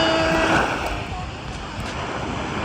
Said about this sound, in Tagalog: Ganito pala ang alon sa umaga, ang lakas.